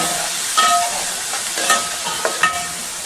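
Eggplant, chana dal, onions and green chilies are stirred in a hot pan, giving a soft sizzle broken by several sharp spatula scrapes and clinks at irregular intervals.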